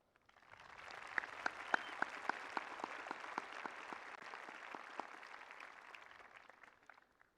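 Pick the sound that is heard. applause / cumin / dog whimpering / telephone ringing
applause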